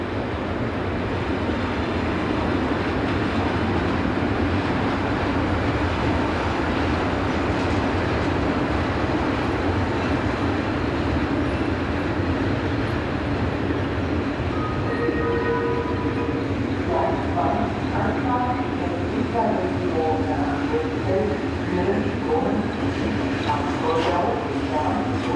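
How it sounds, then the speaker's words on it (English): Swiss Class 620 Re6/6 electric locomotives on the Gotthard route haul a train bound for Italy into passing loops, a steady loud rumble throughout with squealing, tonal whines rising in the second half, under a narrator's voice. "(11657) and 11170 arrive in the passing loops with a train bound for Italy"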